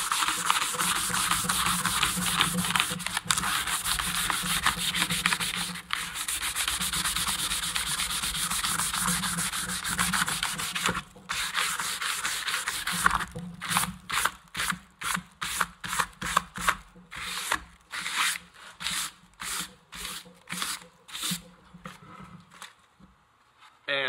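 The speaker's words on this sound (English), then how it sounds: "if you look at this dark piece, we're about to sand that off" Sandpaper of 220 grit rubs over burnt, charred pine, first in continuous close scratchy strokes, then in quicker separate back-and-forth passes toward the end.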